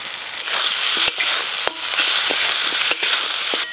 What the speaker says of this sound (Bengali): ভেজে রাখা মাছের মাথা আর মশলা একসঙ্গে ভালো করে কষে নিয়েছি।